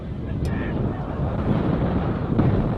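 Steady, heavy wind rumble buffets the microphone at an outdoor football match, a low continuous roar with no pauses.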